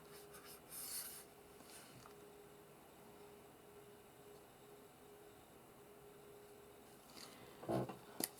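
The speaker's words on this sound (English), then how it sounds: "So now I am just going to write January." A pen writing by hand in a paper planner: soft, quiet scratching strokes up close, with a couple of brief louder scrapes near the start and end against faint background noise.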